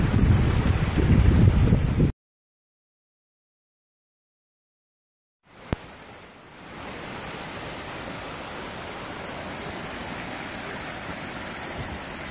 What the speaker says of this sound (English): all the snow runoff, the waterways are really flowing.